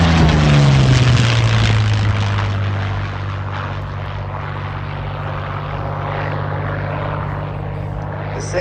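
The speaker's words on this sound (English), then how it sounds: "Second P-40 to be restored by the Pay family." Curtiss Kittyhawk Mk1A P-40 propeller fighter flying a display, its loud engine drone and propeller roar sweeping past, then settling into a steady, slightly more distant hum.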